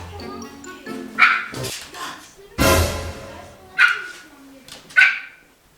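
A dog barks and yips in sharp bursts, close by and fairly loud, with several spaced calls and a few mixed whines or voice-like sounds in between.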